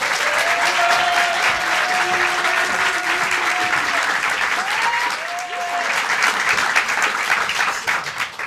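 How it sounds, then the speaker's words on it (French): An audience at a French stand-up comedy show applauds loudly and steadily as the next comedian is brought on. Cheers and whistles rise over the clapping, and a few voices call out. "Je vous demande d'applaudir Mélanie Desmond."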